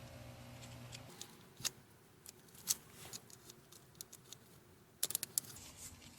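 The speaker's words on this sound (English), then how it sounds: "See, I'm going to cut it here, okay, and I'm going to pull it a little bit." Vinyl siding being cut and trimmed by hand during an installation, with a few sharp snipping clicks and small taps spread over a quiet background, close and fairly faint.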